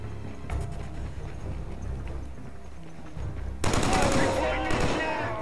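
Heavy gunfire in the PS3 shooter Killzone 3: sustained automatic bursts build in the background, then erupt into loud, dense close-range firing during the last couple of seconds.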